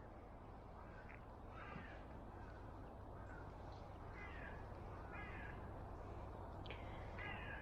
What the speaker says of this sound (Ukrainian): У лісі тільки ворони і ми.